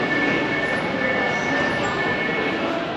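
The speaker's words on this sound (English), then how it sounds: "test trains could be seen operating in both tunnels, and they were actually stopping" A test train in the Melbourne Metro Tunnel stops at an underground platform, producing a loud steady rumble with a thin high whine running through it, heard alone.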